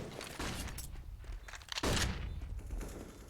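Bursts of pistol gunfire in a Counter-Strike match on the Overpass map, a few sharp loud shots over steady game ambience, with one heavier cluster near the middle.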